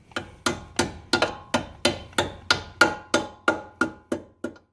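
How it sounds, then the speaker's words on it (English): A hammer driving a clip onto the suspension of an Infiniti G20 during a shock and lowering spring install, about fourteen sharp metallic blows struck at a quick, even pace, close and loud. "Go ahead and get your hammer"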